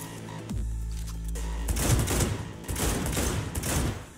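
Pistol fire rings out in a Cyberpunk 2077 firefight, a rapid cluster of loud shots and impacts following a low hum, with the gunfire continuing in bursts.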